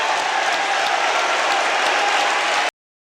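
Large crowd at the St. Augustine high school basketball non-public A championship game cheering and applauding loudly and steadily, a dense continuous roar of claps and voices that cuts off abruptly.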